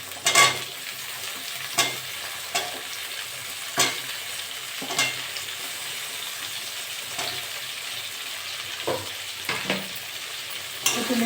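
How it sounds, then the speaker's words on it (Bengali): Shrimp frying with potato and pumpkin in a pan, a continuous sizzle broken by repeated scraping strokes of a spatula as the pieces are stirred, close and without speech. "একটু নেড়ে চেড়ে ভেজে নেবো।"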